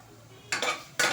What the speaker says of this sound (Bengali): একটুখানি আদা, রসুন, পেঁয়াজটা একটু মশলার সাথে আরও একটুখানি ভেজে নেব